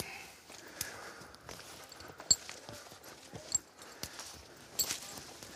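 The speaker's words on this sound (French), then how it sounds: "Et alors, c'est quoi cette variété de cheval? Alors ça, c'est un trait ardennais." A large Ardennes draft horse walks in a forest with slow, irregular hoof clops on soft ground, fairly quiet, with some rustling and scuffing between steps.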